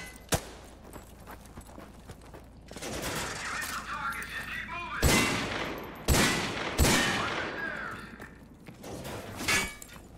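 Gunfire in Call of Duty: Modern Warfare 2 Remastered, with sharp shots and loud crackling bursts over a noisy battle background, loud and close.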